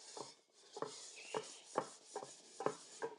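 Stainless steel is hand-sanded toward a chrome finish: repeated scratchy rubbing strokes, about seven in a steady back-and-forth rhythm, close and fairly quiet, with no talking.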